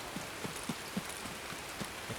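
Heavy rain in the video game Escape from Tarkov, a dense, loud hiss of downpour with scattered heavier drops tapping irregularly over a steady wash.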